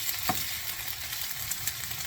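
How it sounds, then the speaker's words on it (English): Shallots sauté in hot oil in a pan, giving a steady, close sizzle and crackle with a brief stir. No voices. "Now we're sauteing these."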